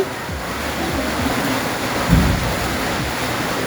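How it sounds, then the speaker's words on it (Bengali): Heavy rain pouring down steadily under dark clouds, a dense loud continuous wash of noise with a brief rumbling swell near the middle. "আর অঝোর ধারায় বৃষ্টি পড়তেছে, একটু থামতেছে, তারপর আবার বৃষ্টি আরম্ভ হচ্ছে।"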